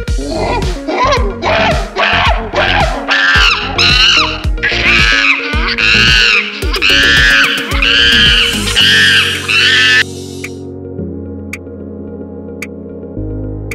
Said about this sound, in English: Monkey, and the sound of the monkey is